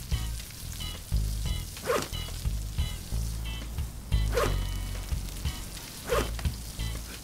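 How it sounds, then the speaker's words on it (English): Fish roasting over a campfire in the survival game Stranded Deep gives a steady, moderately close sizzle and crackle with a few brief brighter pops, and no one talks over it. "it should cook all of the fish at one time"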